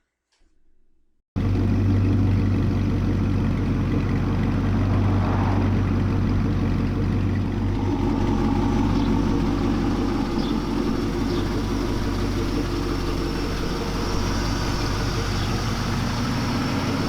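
A 1960 Chevrolet C10 short-bed pickup with an LS1 V8 engine starts abruptly and runs steadily, producing a loud, close, continuous low rumble that holds throughout with no talking.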